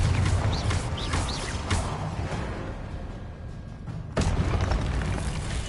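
A Confringo fire-blast spell goes off in Hogwarts Legacy combat: a dense, rumbling roar of noise with crackles, then a sharp new explosive burst near the end.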